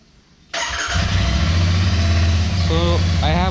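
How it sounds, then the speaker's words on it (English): A Royal Enfield Interceptor 650 motorcycle engine fires up and settles into a steady, close idle with a low throbbing rumble that holds to the end, and a few brief electronic beeps sound over it. "So my bike is running"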